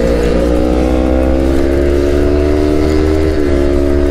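Several Yamaha RX-King two-stroke motorcycles rev loudly and steadily up close, a sustained buzzing engine drone with rising pitch throughout, with no voices.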